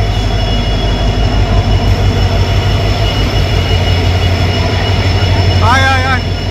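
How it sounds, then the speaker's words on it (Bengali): The Tamralipta Express rolls into Howrah station with a loud, close, continuous rumble of wheels and carriages, a rhythmic clatter, and a brief high wheel squeal near the end, with people talking faintly. "চলে এসেছে আমাদের ট্রেন, তাম্রলিপ্ত এক্সপ্রেস।"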